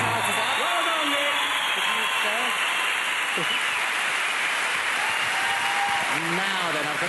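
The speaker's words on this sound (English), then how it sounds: "Worth a round of applause, I feel." A comedy theatre crowd at a live stand-up show claps and cheers in a dense, steady wash, with some whooping and voices mixed in throughout.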